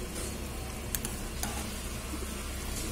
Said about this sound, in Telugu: ఇట్లా గడ్డలు లేకుండా కలుపుకోండి